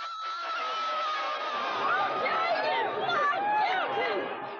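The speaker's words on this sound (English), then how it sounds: "Here the crowd is mostly jubilant." Jubilant crowd outside a courthouse reacting to a verdict, a dense mass of shouting, cheering and overlapping voices rising and falling continuously, close and loud.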